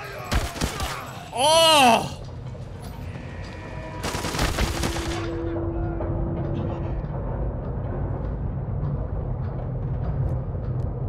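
Gunfire in the shooter game Arena Breakout: a sharp early burst of shots, then a second loud volley of rapid fire, with rumbling ambience between and after, and a brief shouted exclamation from a player.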